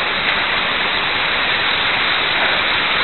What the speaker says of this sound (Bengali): এখন ঝর্ণার দিকে এগিয়ে যাচ্ছি